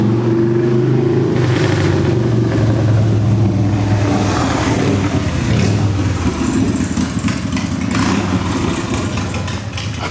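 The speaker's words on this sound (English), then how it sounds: "This one of my neighbors has got this motorcycle." A neighbor's motorcycle nearby, its engine idling roughly, then revving up into a louder, ragged roar that stays busy and mid-pitched for several seconds.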